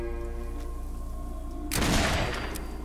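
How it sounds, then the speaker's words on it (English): A single powerful gun blast in Fallout 4 bursts out loud and near over a steady low hum and faint tonal background, with a rough rumbling tail that slowly fades. "Wow, this gun's powerful."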